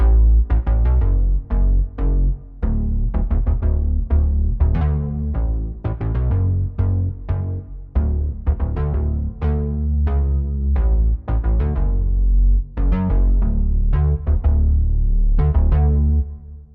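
Biggie Bass, a richly distorted synth preset in Logic Pro, plays a loud, punchy run of short rhythmic notes with heavy low end and gritty harmonics, alone without talk.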